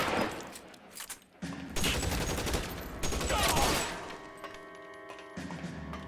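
Gunfire in the video game L.A. Noire: loud bursts of rapid shots and fusillades crackle close, with dense volleys in the middle and a ringing tail fading out afterward.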